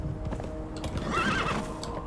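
A horse in Conan Exiles: Isle of Siptah whinnies with a rising neigh over steady clip-clopping hooves and a low ambient game background, with no talking.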